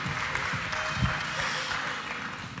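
Audience applause for a speaker at a marketing talk: a dense, sustained wash of clapping from a room full of people, even in loudness throughout.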